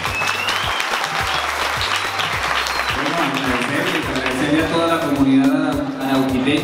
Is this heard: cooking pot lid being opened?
no